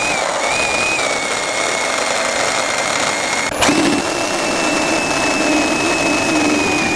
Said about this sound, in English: the best way to cut these end pieces off of the lower back is using a Sawzall with a blade long enough to reach through